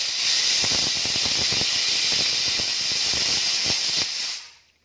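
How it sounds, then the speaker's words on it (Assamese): A pressure cooker whistle while chickpeas boil: a loud, sustained steam hiss with rattling puffs underneath, lasting about four seconds before it fades out. "এয়া দেখিলে মোৰ কুকাৰৰ চিটি আহি গ'ল।"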